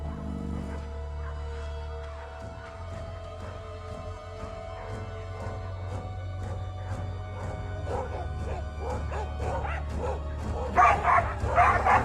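In the Russian wilderness, dogs bark an alarm at a tiger with repeated sharp barks and yips. The barking is fairly faint and distant and grows busier toward the end.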